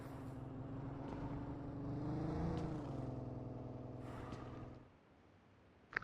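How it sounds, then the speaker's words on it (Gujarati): A vehicle in the mobile shooter game BGMI approaches, its engine hum rising and swelling in pitch before fading out, followed by silence and a sharp click at the end. "અહીંથી ગાડી આવી."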